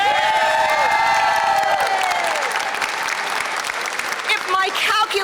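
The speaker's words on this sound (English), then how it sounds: "Can I get an applause for" Loud, steady applause with cheers and whoops from a crowd at a nurse practitioners' rally, continuous for the whole stretch, with a few raised voices calling out over the clapping.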